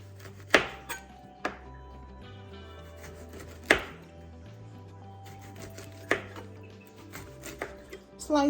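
A knife cuts thin lemon slices for a ginger tonic on a board, sparse sharp chops landing every second or two, each a crisp tap with a short ringing tail over a low, steady background hum.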